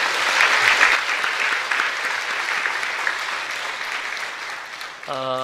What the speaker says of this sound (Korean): 위에서 박수 한번 부탁하고요